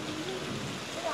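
Heavy rain falls as a dense, even hiss of drops striking surfaces, continuous and fairly loud throughout.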